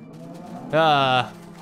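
Cows in a video game server give one loud, clear moo lasting about half a second, over a quiet background hum.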